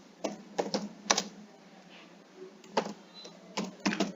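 An Aadhaar number being entered on a computer keyboard: quiet, close key taps in short irregular bursts with brief pauses between groups, no voices.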